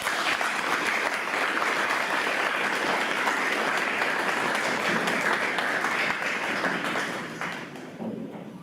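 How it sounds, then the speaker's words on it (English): Sustained applause from a large audience at an awards gala, a dense steady wash of clapping that holds evenly and then tapers off near the end. "Please power clap with me as we recognize our LDE teams"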